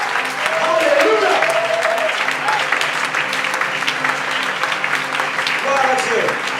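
A church congregation claps loudly and continuously in sustained applause acclaiming Jesus, with voices rising over the clapping throughout.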